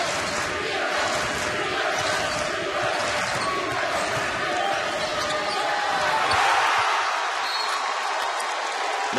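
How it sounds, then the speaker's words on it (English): A college basketball arena crowd at a Wofford versus Iona game roars continuously, a dense, loud wash of cheering that swells slightly near the end, with an announcer's voice faintly underneath. "And here comes the crowd."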